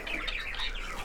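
A pet budgerigar gives a quick run of bright, close chirps and twitters over a steady low hum of background noise.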